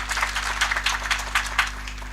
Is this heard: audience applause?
yes